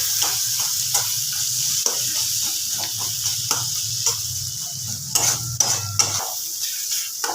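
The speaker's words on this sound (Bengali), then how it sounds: "এবার এই মশলাটাকে খুব ভালোভাবে আমি নাড়াচাড়া করে নেবো" Spiced masala paste for a Bengali fish jhal fry being stirred in a hot pan, a steady sizzle broken by repeated scraping clicks of the spoon, close and loud with no talking.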